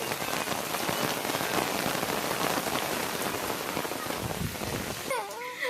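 A downpour roars steadily, thick rain pattering loudly and close on every surface for several seconds.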